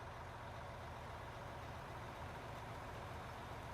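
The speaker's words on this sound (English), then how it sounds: "It just revs up." A broken-down truck's engine in the video game Out of Ore drones evenly with a deep, continuous hum, its level barely changing throughout and no speech over it.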